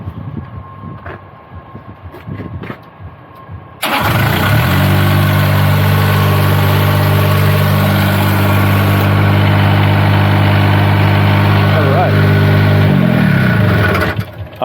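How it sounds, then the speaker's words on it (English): A Niftylift HR17N aerial lift engine with a start-stop fault abruptly starts after quiet clicks and settles into a loud, steady close idle for about nine seconds before shutting down. "engine just started cranking, and I heard the starter motor is engaged"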